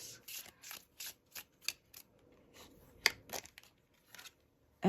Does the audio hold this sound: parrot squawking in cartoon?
no